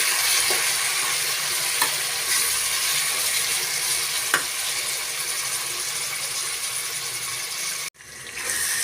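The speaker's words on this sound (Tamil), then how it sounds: "இப்போ நம்ம கட் பண்ணி வச்ச நாலு தக்காளி சேர்த்துக்கலாம் நல்லா கலந்து விட்டுக்கோங்க" Chopped tomatoes being stirred into fried onions in a pan for egg biryani, a steady close sizzle and frying hiss with faint scraping stir strokes, ending in a brief quiet cut.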